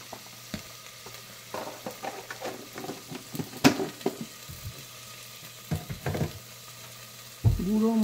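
Ground spices such as coriander and cumin powder frying with salt in a pan for Bengali khichdi, a soft low sizzle broken by intermittent scraping and clinking of a spoon stirring, fairly quiet and close.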